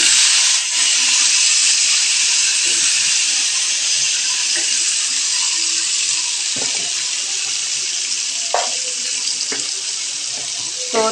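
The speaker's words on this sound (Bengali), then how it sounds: "আমি নিয়ে নিচ্ছি কেটে রাখা সবজিগুলোকে একে একে এবং গরম তেলের ওপরে দিয়ে দেব।" Chopped vegetables dropped one by one into hot oil in a home kitchen give a steady, loud, close hiss of sizzling, with a few faint clinks and taps along the way.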